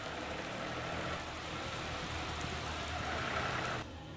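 Heavy rain with strong wind sweeps over an onion market in Bhopal, where tractors loaded with onions sit under tarpaulins, a dense unbroken roar of falling water that stays loud and steady throughout.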